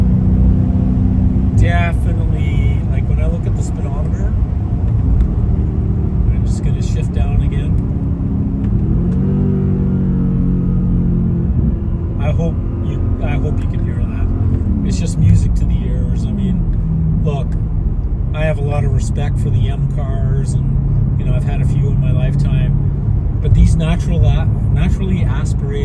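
A 2005 Mercedes CLK55 AMG with its naturally aspirated 5.4 engine accelerates hard, a loud sustained roar that climbs and drops through the gears, with someone talking over it from inside the car.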